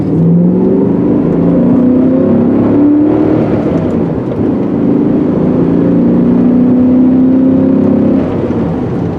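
A 2000 BMW M5 that sat for months cruises along a road, with a steady, loud engine and road drone holding throughout, no voices.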